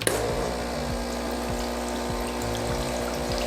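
An espresso machine pumps a mix of water and descaling solution through its water lines, a steady close motor hum with liquid flow and repeated short low pulses, no talking.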